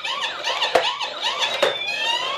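A remote-control toy fire ambulance wails its electronic siren loudly and close, a repeating up-and-down warble with two sharp clicks, then shifting into a faster rising yelp.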